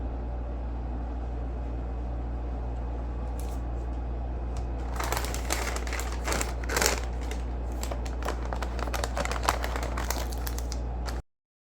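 A plastic liner is peeled away from a block of homemade soap in its mold, giving close, crackly crinkling and rustling in irregular bursts over a steady low background hum.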